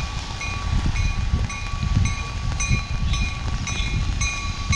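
An Amtrak passenger train arriving southbound at Old Orchard Beach station, Maine, rumbles steadily nearby, with low rolling noise and faint high-pitched squeals, no voices.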